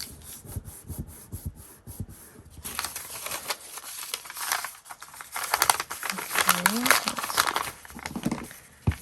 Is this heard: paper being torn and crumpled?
yes